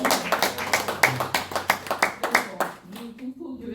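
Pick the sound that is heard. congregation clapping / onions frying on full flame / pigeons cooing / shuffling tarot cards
congregation clapping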